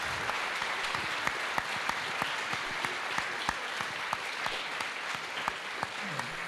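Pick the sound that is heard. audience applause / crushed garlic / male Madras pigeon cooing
audience applause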